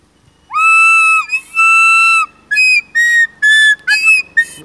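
A recorder flute blown by a beginner, giving a run of clear, shrill held notes, two long tones followed by several short breathy toots, loud and close, with no talking.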